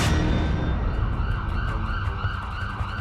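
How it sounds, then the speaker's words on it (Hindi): An ambulance siren wails loud and close, its rising and falling tone sweeping repeatedly over the rumble of traffic, with no talk. "ये वाहन है एम्बुलेंस"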